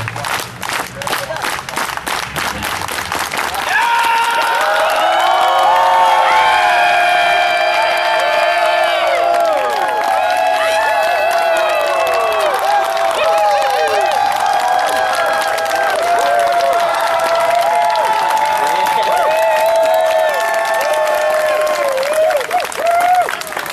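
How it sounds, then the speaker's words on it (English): Occupy protesters at an outdoor general assembly burst into loud, sustained clapping, cheering and whoops, with shouting voices layered over the applause for about twenty seconds after a short opening of talk. "Hey, all you Occupy fans, clap here, clap your hands."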